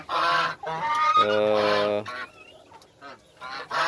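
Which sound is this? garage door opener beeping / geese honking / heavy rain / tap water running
geese honking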